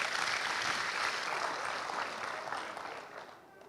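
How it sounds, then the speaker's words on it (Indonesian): An audience applauding children at a ceremony, a sustained wash of clapping from a crowd at moderate distance that gradually fades out. "Ya, tepuk tangan dulu untuk adik-adik kita."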